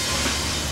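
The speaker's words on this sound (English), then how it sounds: "This train may appear motionless, but it's actually traveling at 50 miles per hour." A train travelling at about 50 mph, a loud, steady rumbling roar with a hissy, rushing top, continuous and close for a brief moment without speech.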